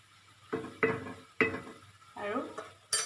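A wok of vegetable curry is stirred in short bursts, with clinks and scrapes of a spoon against the pan over a soft bubbling simmer, close and fairly quiet; no talking.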